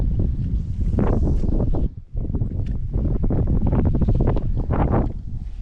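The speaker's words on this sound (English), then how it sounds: "I know this wind is absolutely horrendous." A strong southwesterly wind blows across a winter marsh in southeast Louisiana, roaring and buffeting loudly in gusts with one short lull midway.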